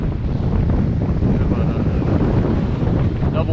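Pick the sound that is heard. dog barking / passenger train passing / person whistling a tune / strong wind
strong wind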